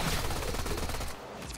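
Sustained automatic gunfire in the sci-fi shooter Warframe, a loud continuous stream of rapid shots with no pauses that thins out toward the end.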